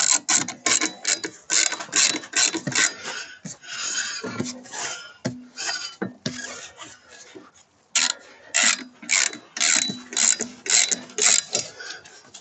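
Ratcheting wrench clicks as car wheel bolts are tightened in a cross pattern while fitting new brake discs, with close, repeated bursts of quick metallic clicking separated by brief pauses.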